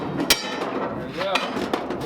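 A few sharp metal hammer blows ring out on a 1939 Ford junkyard hot rod, spaced unevenly over a couple of seconds, with faint talk and shop noise between the strikes.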